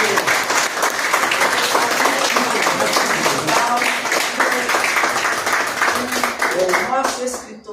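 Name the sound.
audience applause for Jaime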